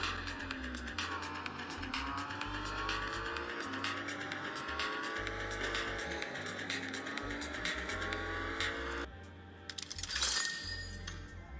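A racing video game plays on a Huawei Nova 7 SE smartphone, with a car engine revving and shifting through gears in a steady drone, then tires squealing briefly near the end.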